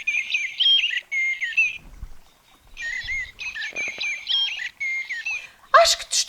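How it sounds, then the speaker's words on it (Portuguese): A small bird sings a bright, high-pitched melody of repeated chirping phrases separated by short pauses. It is clear and close, with a faint soft patter underneath and no voices. "o pássaro deu saltinhos, bateu as asas e piou uma bonita melodia"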